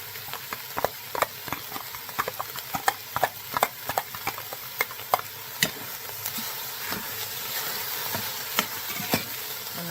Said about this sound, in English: I'm going to put my garlic in here, because I want to put a brown on the garlic as well.